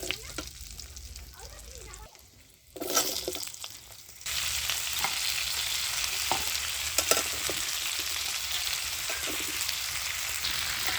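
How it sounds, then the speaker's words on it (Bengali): Cut potatoes and eggplant hit hot oil with tempering spices, bursting into a loud, steady sizzle after a quieter start, with stirring scrapes and occasional clinks in the pan. "এবার আমি কেটে রাখা আলু আর বেগুনটা দিয়ে দিচ্ছি"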